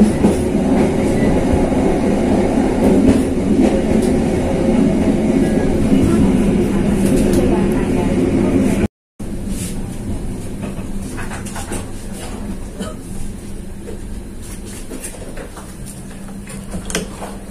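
The Ambarawa Xpress Premium train rumbles and rattles along, the steady clatter fading after a brief cut to a quieter hum and scattered clicks as it comes to a halt at Kradenan station.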